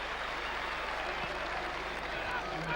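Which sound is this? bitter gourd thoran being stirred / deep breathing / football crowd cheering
football crowd cheering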